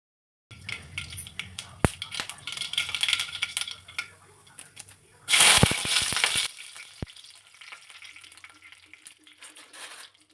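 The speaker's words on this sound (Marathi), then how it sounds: "मोहरी आणि कढीपत्ता चांगला तडतडला" Mustard seeds and curry leaves hit hot oil in a kadhai and burst into a loud, dense crackle of sharp pops that lasts about a second. Lighter sizzling and scattered clicks come before and after.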